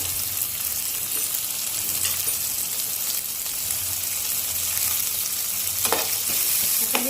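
Tomatoes go into onions frying in a pan for Maharashtrian baingan bharit, a loud continuous hiss and sizzle with a couple of stirring clatters near the end, no voices.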